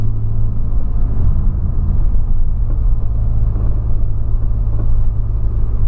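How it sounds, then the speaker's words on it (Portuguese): A Volkswagen Polo's suspension on one side knocks while the car is driven, heard as a loud, steady low rumble of road and engine noise with faint irregular thumps buried within, and no talking. "E o suspensão desse lado aqui, ó, tá batendo demais, mais do que o outro."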